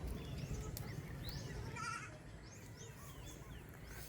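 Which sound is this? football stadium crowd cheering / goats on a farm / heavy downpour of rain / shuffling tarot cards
goats on a farm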